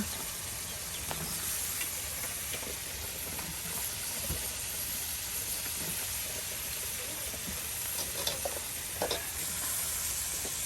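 Dried rita fish frying in a pan with cooked-down spiced masala, giving a steady, dense sizzle and hiss throughout, with occasional faint stirring knocks and no clear talk.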